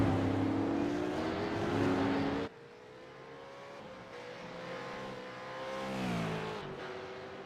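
A SuperCars race car, a wagon body style, at Zolder, with a loud engine drone and shifting pitch as it brakes and passes close by, continuing with whining, changing engine tones afterward.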